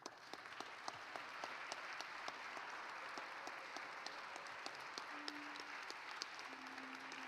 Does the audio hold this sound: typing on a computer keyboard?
no